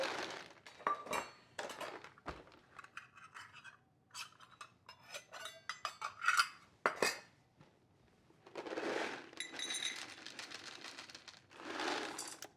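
Chocolate chips poured into a saucepan, several bursts of light clattering and pattering against metal, with sporadic clinks and a couple of longer rattling pours later.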